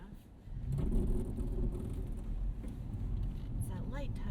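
2024 Toyota 4Runner on Bridgestone Dueler A/T Ascent tyres pulling away on icy snow, a low engine rumble rising and holding steady with faint crunching, as a person speaks over it.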